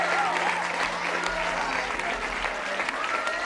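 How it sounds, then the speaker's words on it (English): Sustained audience applause for the four finalists at the Showville Darling 2016 talent show, a dense wash of clapping filling the hall steadily throughout, with faint voices beneath. "Ladies and gentlemen, a huge round of applause for your 4 finalists."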